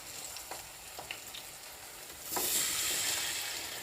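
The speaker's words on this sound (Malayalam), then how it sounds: "നമുക്കിതുപോലെ മുക്കി വറുക്കാം" Sardines sizzle in hot oil in a pan, a steady close frying hiss that swells louder partway through as more fish are added, with a few soft utensil clicks.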